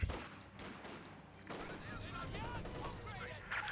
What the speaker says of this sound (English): MG-34 firing, there we go